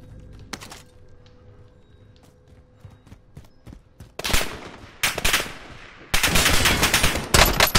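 Gunfire in Call of Duty Warzone during a fight with bots: quiet clicks and faint shots at first, then loud close bursts of rapid automatic fire that build into sustained shooting near the end.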